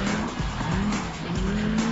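A Lamborghini braking hard into a hairpin on a road course, with a loud close engine note dropping through the gears as the tyres squeal briefly, continuous throughout.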